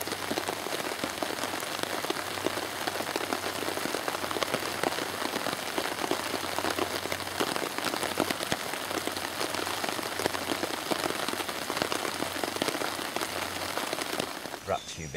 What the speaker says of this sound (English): I'm just going to sit underneath the tarp, wait for this rain to stop